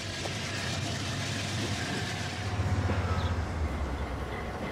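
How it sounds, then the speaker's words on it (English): A hopper freight train runs in the Transport Fever 2 game, a steady low rumble with rhythmic wheel-on-rail clatter that builds toward the end, with no talking over it. "The hopper train is still coming out."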